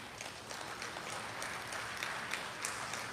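Faint, steady applause from an audience at a speech opening an agri-investment forum, many hands clapping together at a distance with no voice over it.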